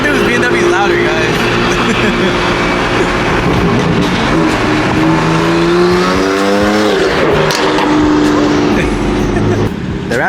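A BMW engine revs hard among other cars at a crowded gathering, a loud, sustained roar with rising and falling pitch, while people talk nearby.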